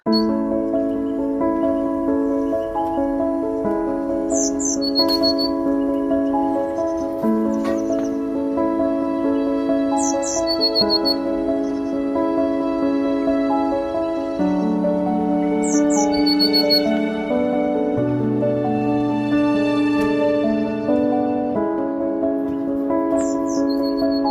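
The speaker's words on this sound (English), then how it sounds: "Nice to hear the blackbirds out and the sun out at the same time" Blackbirds sing in a garden with repeated bright chirps and squawks over a steady, dense background of layered tones that fills the whole stretch.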